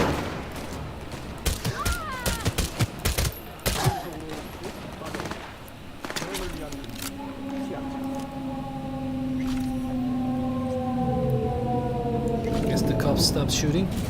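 Gunfire in Cyberpunk 2077: a volley of sharp shots in the first few seconds, then a long wailing siren-like tone sweeping over steady rumble, while a voice talks at moments.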